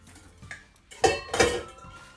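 Stainless steel stand mixer bowl and metal whisk clink and knock together as they are handled, a few close metallic taps with two louder clanks near the end.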